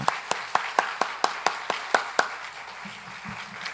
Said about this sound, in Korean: 그럼 박수 부탁드립니다.